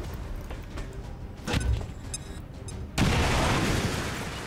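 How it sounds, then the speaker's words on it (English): A grenade blast in the video game XCOM 2: a few soft thuds, then a loud, sudden explosion that holds a broad rushing roar for the last seconds. "So I'm gonna have my grenadier drop a grenade."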